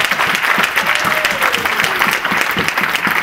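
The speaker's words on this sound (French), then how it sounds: "Can we clap the Lord?" Church congregation applauding together during a deliverance sermon, steady dense clapping that fills the room throughout, with a faint voice rising beneath it.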